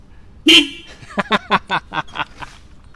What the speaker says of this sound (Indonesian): saya mau nyoba klaksonnya nih